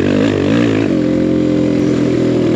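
A BBR KLX170RF dirt bike being ridden: a loud, close engine drone that rises and falls in pitch before settling into a steady buzz.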